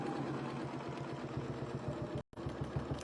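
Sewing machine stitching a quilt, a steady close whirring motor with a fast needle rhythm that cuts out briefly near the end and then starts again.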